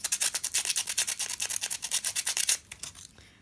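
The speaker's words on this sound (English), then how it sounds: "it's best if you sand the little slits" Rapid back-and-forth sanding in the small slits of a puppet's knee joint, about two dozen quick, close rasping strokes in an even rhythm that stop abruptly with a few softer rubs trailing off.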